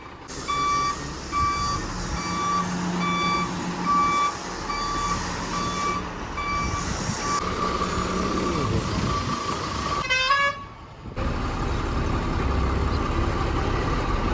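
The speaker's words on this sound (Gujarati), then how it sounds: "થોડીક રેસ કરીએ ભાઈ ગાડીને" A pipe-loading truck, just back from repair work, runs its engine loud and close. Rapid reversing beeps repeat through the first half, a horn toots, and the engine noise carries on after a short dip.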